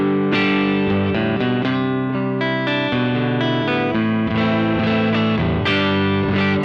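An electric guitar played through a Lovepedal Reverb Deluxe pedal rings out with continuous strummed chords and picked notes, loud and washed in reverb, with no talking.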